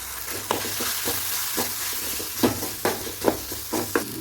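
Spices and tomato for chana masala frying in a pan, a steady sizzle broken by repeated scraping stir strokes at an uneven rhythm, close and fairly loud with no voices.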